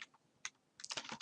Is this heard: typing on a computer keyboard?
yes